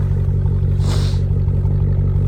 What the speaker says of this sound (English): The idle on this thing is killer.